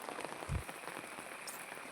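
Steady night rain patters on a surface, a dense even hiss with a single dull thump partway through, no talking.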